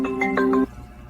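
A macaw at a veterinarian's office mimics a phone ringtone with a short, loud electronic-sounding warble of a few stepped tones lasting under a second, then cutting off to quiet.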